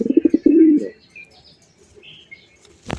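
Rajgolla pigeons cooing in a short pulsing burst, followed by soft chirps and a sharp flutter of flapping wings at the end, close and fairly loud.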